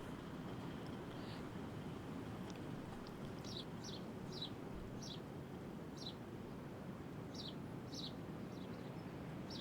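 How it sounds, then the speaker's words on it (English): Small birds chirp in the background ambience of the X-Plane 12 flight simulator, with short, high tweets repeating in loose clusters over a soft, constant hiss of outdoor noise. "Nice, eh? Little birds."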